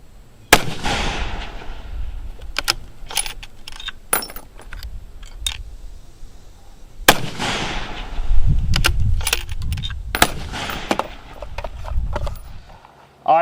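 A factory hunting rifle with factory ammunition fires at targets 1000 yards away, giving two loud, sharp reports with echoing tails several seconds apart. Scattered clicks and handling knocks come between them, and one final crack sounds at the end.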